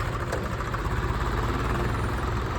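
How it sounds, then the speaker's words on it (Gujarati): A tractor engine idling just after being started, a steady, close, rumbling drone that holds evenly throughout with no talking. "હવે ટ્રેક્ટર સ્ટાર્ટ કરી નાખ્યું"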